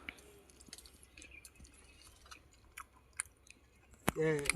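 Soft, wet chewing and small mouth clicks from someone tasting wild honey gathered from an anthill nest, close and quiet, with a sharper, louder sound near the end.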